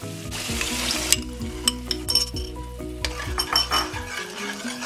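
A spoon stirs yogurt into tomato masala frying in a pot for chicken kofta biryani, with loud scrapes and clinks over a continuous oily sizzle.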